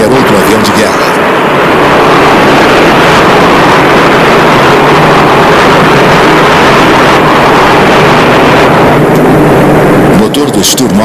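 Engine of a Sturmovik, a WWII ground-attack warplane, as a loud, continuous roar that fills the whole stretch, with a voice speaking over it.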